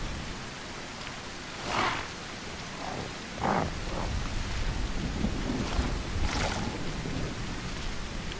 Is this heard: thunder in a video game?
yes